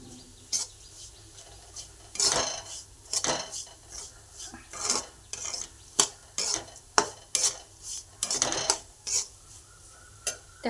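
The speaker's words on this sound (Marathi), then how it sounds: "बारीक गॅसवरतीच घ्यायचा आहे भाजून" Dry semolina (rava) roasting in a pan over low flame for upma, with a spoon scraping and clinking against the metal in irregular close strokes amid a soft background hush.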